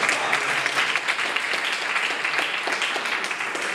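Hearty applause fills a room at a book presentation and poetry slam, many people clapping in a thick, continuous burst that holds steady for a few seconds.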